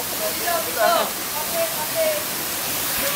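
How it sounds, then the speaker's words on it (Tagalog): Waterfall at Lake Agco, a steady broad rushing hiss of falling water heard close, with brief voices talking over it. "Nandito po tayo ngayon sa falls."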